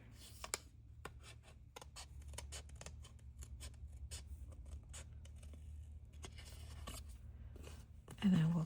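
Crisp, repeated snips of scissors cutting around a paper tag for a tunnel tag craft, irregular clicks spaced over a quiet background, with a brief voice near the end.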